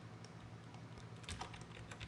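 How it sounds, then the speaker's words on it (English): Faint, quick clicks of fingers typing on a computer keyboard, ending with a press of the return key, with scattered keystrokes over a low steady hum in a quiet room. "I'm going to rename this solid by hitting return on the main keyboard"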